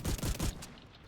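Rapid burst of gunfire from The Division 2, three or four heavy shots in quick succession close up, ending abruptly with a short fading tail.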